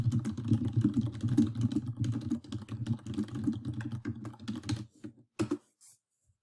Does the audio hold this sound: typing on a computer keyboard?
yes